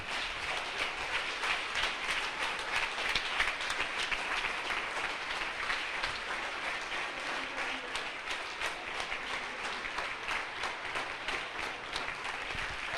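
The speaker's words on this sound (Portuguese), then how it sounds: "Agora nós vamos aplaudir fortemente a Deus pela terceira idade que está entre nós" Congregation applauding in a church service in Recife, a sustained wash of many hands clapping for about thirteen seconds, even and moderately distant, with no speech over it.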